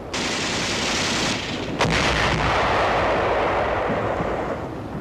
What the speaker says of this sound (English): our tanks move forward under heavy fire.